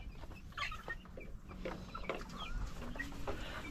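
Chickens cluck and chatter softly in a group, with scattered short calls over a low background hum, fairly quiet and without talking.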